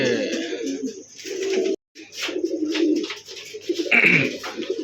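Ordinary pigeons kept for sale coo in soft, rolling throaty bursts, several birds close by, broken by a brief silence and then resuming with a flutter of sharper sounds.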